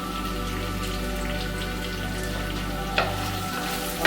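Fresh curry leaves sizzle in hot oil in a pan, a steady dense crackling and hissing throughout with one brief louder spatter near the end.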